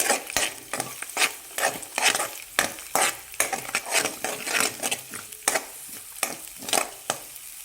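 Hubballi-style egg rice with green chillies is stirred in a hot pan, a spatula scraping and tossing in quick, repeated strokes over a steady sizzle, close and fairly loud with no talking.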